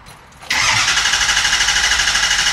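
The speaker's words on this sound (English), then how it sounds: "Yeah, it turns over really smooth." A Ford F350 with the 6.4L diesel engine cranks over; after a brief quiet moment the starter kicks in with a loud, rhythmic, even churning that continues steadily without catching.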